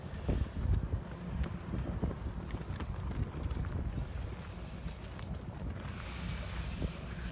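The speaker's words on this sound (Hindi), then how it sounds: "तेज हवा है" Strong cold wind buffets the microphone outdoors near Capitol Hill just before a presidential inauguration, a continuous low rumbling roar with gusty surges and no speech.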